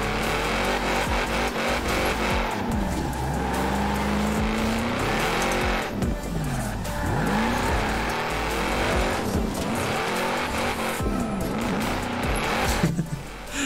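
A powerful Ford Shelby 1000 drifting in Forza Horizon 4: a loud, continuous engine roar with rising and falling revs and repeated tire squeals, without a break.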